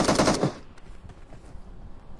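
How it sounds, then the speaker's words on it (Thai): Gunfire from a first-person shooter video game: a loud, rapid automatic burst is followed by quieter, scattered distant shots and game noise for the remaining two seconds, with no speech. "มีคนยิงมาอีกอยู่ข้างบน"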